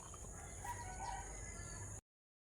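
A rooster crows once, faint and distant, over low background noise in a backyard garden, the call stopping abruptly after about two seconds.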